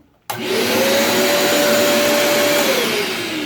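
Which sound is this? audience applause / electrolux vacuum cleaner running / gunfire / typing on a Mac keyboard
electrolux vacuum cleaner running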